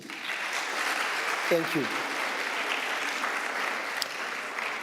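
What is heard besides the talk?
audience applauding the organizing team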